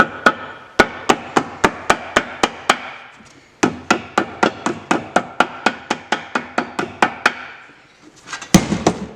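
A steady run of sharp metallic knocks from a handleless hammer head on metal around a Datsun 280Z intercooler, struck in quick regular bursts with a short pause midway and a louder final hit.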